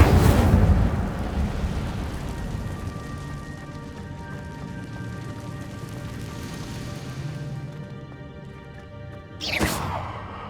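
The Incendio fire spell is cast in Hogwarts Legacy: a loud fiery burst erupts at the start and gives way to a lingering rumbling crackle, and a sharp whooshing flare rises again near the end.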